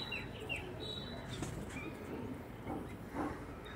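Pigeons of a fancy breed, kept as pets, flap their wings in quick, soft flurries, with a few faint coos and chirps over a quiet room background; no one speaks.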